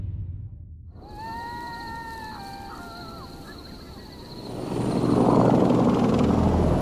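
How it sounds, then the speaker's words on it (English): Helicopters fly toward Abbottabad, Pakistan, a steady rotor drone that swells louder toward the end, under a layer of tonal music. "Two helicopters are traveling towards Abbottabad, Pakistan."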